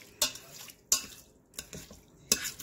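Spoon stirring Spanish brown rice in an Instant Pot, four or five distinct scraping strokes against the metal pot with faint sizzling between them, close and fairly quiet.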